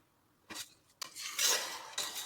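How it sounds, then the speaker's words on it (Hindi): A spoon stirs zarda sweet rice in milk in a pot, giving soft scraping and rubbing strokes against the metal in three short bursts, close by and fairly quiet, with no talking. "नरम हाथों से आपने चम्मच हिलाना है ताकि चावल टूटे ना।"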